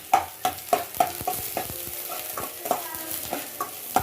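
Chopped garlic and onion frying in a pan, a continuous sizzle broken by regular, rhythmic scrapes and taps of a spoon against the pan, close up and with no voices.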